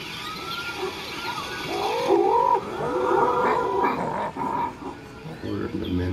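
Warbling, wavering animal calls from the video game Ancestors: The Humankind Odyssey rise and fall in a cluster of cries over a low ambient backdrop.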